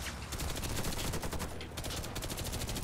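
Automatic gunfire in the online shooter Warface, dense and continuous rapid bursts close up filling the whole moment at steady loudness.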